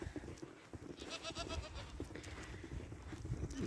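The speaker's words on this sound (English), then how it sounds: "And the goats, of course, need their hay. Got them kind of yelling at us." Goats on a snowy farm bleat repeatedly for their hay, several overlapping cries from close by over a busy, noisy outdoor background.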